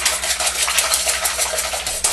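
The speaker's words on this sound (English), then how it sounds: "we'll just go ahead and whisk these up nice" Eggs being whisked by hand in a bowl for pâte à choux, a steady, rapid scraping and clinking of the whisk against the bowl, close and continuous with no talking.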